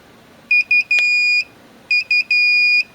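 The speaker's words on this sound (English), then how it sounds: "see the alarm's going off because it's sensing the temperature is above 50 degrees or 55 degrees" An Inkbird digital temperature controller sounds its over-temperature alarm: loud, shrill electronic beeps in two bursts, each of short pips leading into a longer sustained tone, close and clear with no talk.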